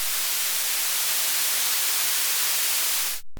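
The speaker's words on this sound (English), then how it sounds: "I'm routing white noise through it now" White noise from a modular synthesizer plays as a loud, steady, even hiss for a few seconds, then cuts off abruptly near the end.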